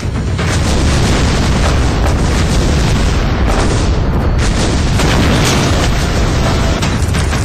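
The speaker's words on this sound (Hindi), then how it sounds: "हमने बॉर्डर पर तुम्हारे बंकर उड़ा दिए" Military blasts as army forces destroy bunkers at the border near Nowshera, Jammu and Kashmir, a loud, continuous roar of booming explosions and rumbling debris with no talking.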